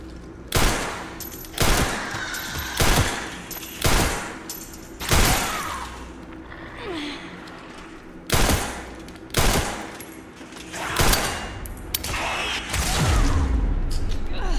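Repeated bursts of gunfire from a survival-horror video game, Resident Evil Requiem, fired in irregular clusters of sharp, loud shots with short gaps between them, ringing over a low ambient game background.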